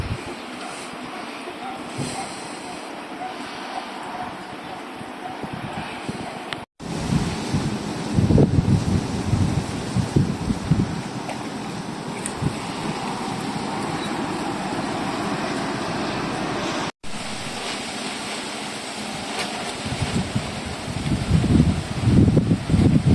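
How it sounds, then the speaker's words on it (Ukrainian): Strong storm wind buffets the microphone in steady, roaring gusts throughout, with a low rumble and brief dropouts, no voices heard. "Частково дує сильний вітер."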